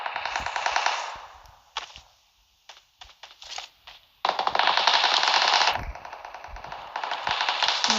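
Rapid automatic Uzi fire in a video game comes as long, loud, close bursts separated by short pauses and a few single clicks, with no speech.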